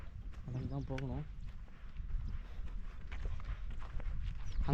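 Footsteps walk along outdoors after a motorcycle is parked near Mettur Dam in Tamil Nadu, a steady close tread under a brief burst of talk and faint bird calls.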